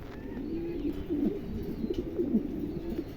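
Large, good-quality pigeons cooing steadily in a soft, continuous stream of low murmuring calls, close by, with no talk.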